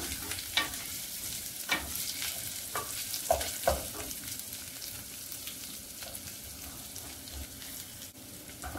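Whole garam masala of cardamom, cinnamon, black pepper, bay leaf and cloves frying in oil makes a soft, steady sizzle with scattered crackles and light stirring clicks.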